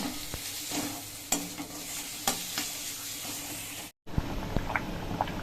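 Lightly fried eggs being stirred in a pan of sizzling egg curry: a steady close frying crackle with repeated scraping stir strokes, a brief drop to silence near the end, then the sizzle resumes.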